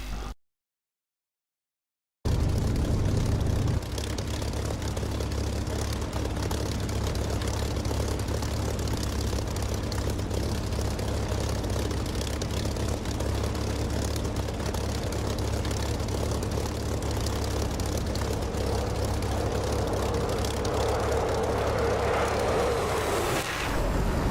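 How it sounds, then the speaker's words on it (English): A propeller aircraft engine in the DCS flight simulator game drones steadily at idle and swells slightly near the end, with no voices over it. "So is Warhawk about to take off?"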